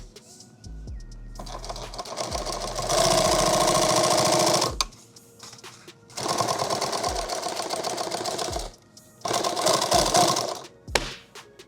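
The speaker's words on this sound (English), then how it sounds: "Let me get my line of stitching here." A sewing machine stitches edge tape onto an eight-magazine war bag, running in three loud, close bursts of rapid, even needle chatter separated by short quiet pauses.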